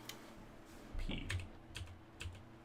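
Keys on a computer keyboard are tapped in a few scattered, faint clicks and thumps, close by, during a livestream of a NASCAR Heat 5 race with no talk.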